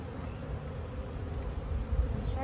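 A swarm of honeybees on a branch gives off a dense, continuous buzz, close and steady, rising slightly toward the end.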